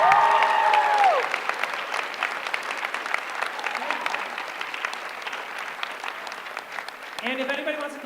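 Comedy show audience applauding a comedian at the end of his set, a dense steady wash of clapping across the whole stretch, fading slightly, with a voice speaking briefly at the start and a voice returning near the end.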